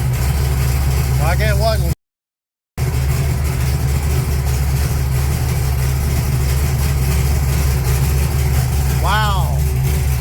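A 1980 Trans Am with a blow-through carburetor fires up and settles into a loud, steady idle with a deep engine rumble, close by, as a person briefly speaks over it.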